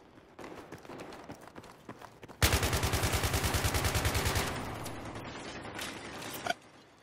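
Rapid machine gun fire from a video game, fitted with a bipod, bursts in loudly and rattles continuously for about two seconds before easing into quieter mechanical clatter, with no talk.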